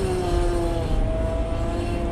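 A Caterpillar 120K motor grader stuck in mud, its diesel engine revving hard and holding a steady strained drone with a rising whine, close and loud.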